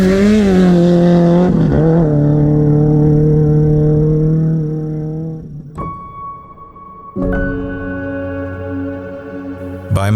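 Race cars in a desert race roar close by with rising, revving engines, then the sound drops to a quieter rumble before another engine surges loudly with sustained high-pitched whine.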